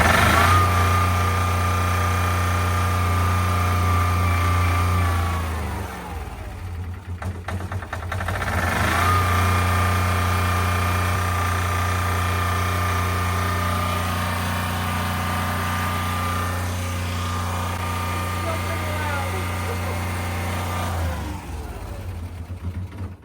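A Peterbilt truck engine cranks and starts, then settles into a loud, steady, high idle with a deep hum and a brief dip partway through, close by and continuing for over twenty seconds.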